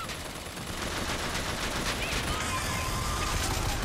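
Rapid gunfire and weapon bursts from the Bioshock Infinite video game, a dense continuous barrage of shots and combat noise at steady high level throughout.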